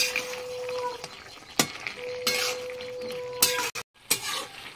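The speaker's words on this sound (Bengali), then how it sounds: "ভেজে রাখা বড়িগুলো সব দিয়ে একটু নাড়িয়ে দেবো" Fried lentil dumplings stirred into a mixed vegetable curry in a pan, with a few sharp scraping clinks of a spatula against the metal over a faint sizzle and a steady tone.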